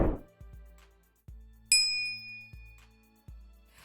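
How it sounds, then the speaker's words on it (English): Notification bell ding sound effect: a single bright, ringing ding that decays slowly, surrounded by several soft low thumps, with no talking. "hitting that bell notification so you are notified when I"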